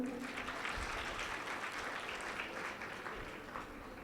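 Audience applause during a Hindi religious sermon at a foundation-stone ceremony, a faint, steady wash of clapping heard from a distance with a murmur of voices.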